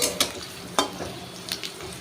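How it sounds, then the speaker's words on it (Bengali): Lentil fritters and potatoes frying in a pan while being stirred, a soft steady sizzle broken by a few sharp scrapes and clinks of the spatula, close by with no talk. "আমি একটু নাড়াচাড়া করে নিলাম আর এইদিকে দেখো ভাজা প্রায় আমার অনেকটা হয়ে গেছে"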